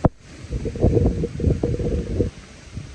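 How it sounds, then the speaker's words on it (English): Hurricane Ian wind gusts buffeting the microphone at a home in Orlando, Florida, loud rumbling bursts that swell and fade over a few seconds after a sharp knock at the start. "This is when we get the gusts."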